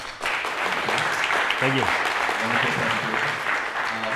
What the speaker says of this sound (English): please first give a round of applause